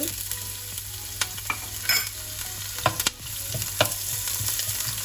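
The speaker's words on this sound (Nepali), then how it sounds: "अब मैले यसमा एउटा प्याज काटेर राख्दैछु, लामो लामो गरेर स्लाइस गरेर काटेको छु।" Long thin slices of onion frying in hot oil in a pan, a steady close sizzle with occasional stirring scrapes and light clinks throughout, no voices.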